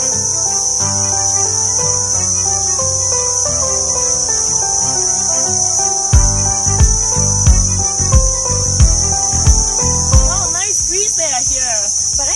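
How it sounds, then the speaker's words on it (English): Crickets chirp in a Thai forest on a trek to a waterfall, a loud, close, continuous high-pitched trill running throughout, with background music and a few soft thumps in the latter half. "I can hear a lot of insect noise. I think it's a cricket there, right?"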